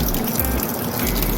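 Aquarium water draining out during a partial water change, a steady close rushing and trickling flow that runs without break, with no voices over it.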